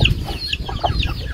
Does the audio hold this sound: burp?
no